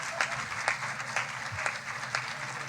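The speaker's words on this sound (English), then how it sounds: "Please start clapping before I mention." Steady applause from a crowd at a secondary schools Model United Nations general assembly in Lagos, dense clapping with a few sharper claps standing out, continuous throughout.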